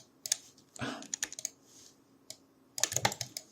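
A computer keyboard is tapped in short bursts of crisp clicks, a few keys at a time with pauses between, close and quiet.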